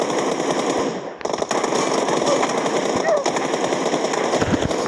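Automatic gunfire from a 1v1 shooter video game rattles loud and dense in sustained rapid bursts, with only a brief break near the start before the firing resumes.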